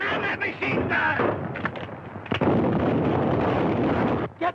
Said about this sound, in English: Man that machine gun!